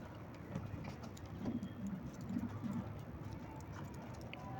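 Pet pigeons coo softly in a loft in a series of low, repeated throaty calls, faint against steady background noise.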